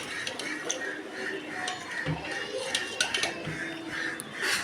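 Sago and roasted vermicelli stirred into milk in a pot for payasam, with a spoon clinking and scraping against the metal in a steady, busy clatter close by.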